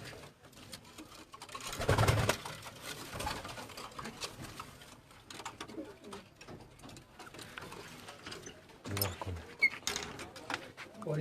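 Racing pigeons in a loft coo softly and intermittently amid faint fluttering and handling noises, with low background murmur and occasional louder bursts.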